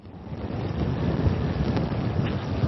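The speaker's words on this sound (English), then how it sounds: "idea of how windy it is here" Strong wind in an exposed valley near reservoirs blusters steadily across the microphone, a dense roaring rush that swells and gusts without any voices.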